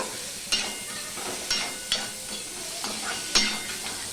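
Cauliflower stems with ginger stirred in a pan, a soft continuous sizzle broken by several distinct spatula scrapes against the pan, close and alone.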